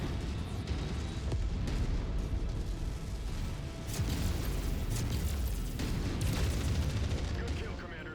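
Cannon fire from a mech in MechWarrior 5 hitting a Hunchback, heavy repeated blasts and booms over a dense rumbling battle, with people talking throughout.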